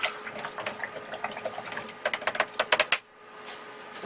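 A paintbrush is rinsed in water during a deciduous-tree painting session, giving a quick series of sharp splashy taps and swishes that peak in a burst near the middle, then fade into soft, faint rustle.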